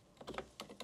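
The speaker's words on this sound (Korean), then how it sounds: "저 키보드 뭐라 그러지? 기계식 키보드라고." Quiet keystrokes on a mechanical keyboard in an office, a short burst of about four or five crisp clicks in uneven rhythm, close and alone.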